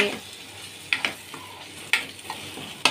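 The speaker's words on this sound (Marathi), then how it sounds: "हे वाटलेलं वाटण आपण चांगलं फ्राय करून घेणार आहोत तेलामध्ये" A ground spice paste fries in oil with a soft, constant sizzle. Sharp metallic clinks and scrapes from stirring come about once a second.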